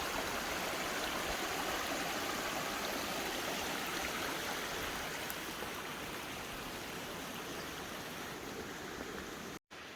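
Creek water rushing steadily beside an Appalachian Trail path in the forest, a dense, continuous flowing wash close by that holds at an even level throughout with no voices.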